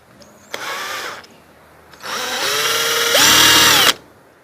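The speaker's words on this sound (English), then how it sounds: "This is where it's going to exit, so I'm going to bore it right now with the drill." A power drill bores a half-inch hole in a homemade bee smoker: a short burst, a pause, then a longer run whose pitch climbs as the motor speeds up before cutting off, loud and close.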